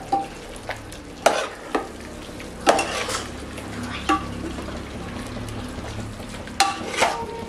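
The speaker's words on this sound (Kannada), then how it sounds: "ಮಿಕ್ಸ್ ಮಾಡೋಣ." Garam masala and spices are stirred into a frying pan for nati-style biryani: a soft continuous sizzle under repeated scraping spoon strokes against the pan, close and moderately quiet, with no talking.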